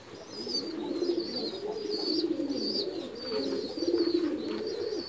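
A pigeon just relieved of a stuck egg coos repeatedly in deep, throaty rolling phrases, close and continuous, with a few higher chirps above.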